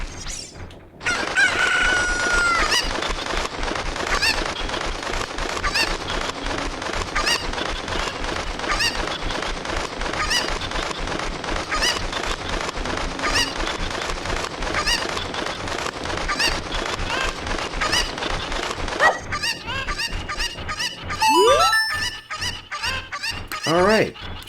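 Cuccos from Zelda Ocarina of Time cluck and squawk in dense, repeated bursts, a loud game flock of chicken calls filling the whole stretch, with a brief sweeping game effect near the end.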